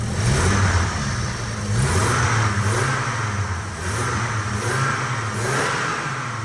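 Renault Safrane 2.5 20V engine running in its bay while the throttle is blipped by hand, giving loud, close, repeated rises and falls in revs over a steady mechanical idle.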